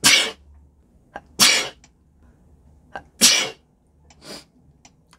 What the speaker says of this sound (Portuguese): o espirro tá bem aqui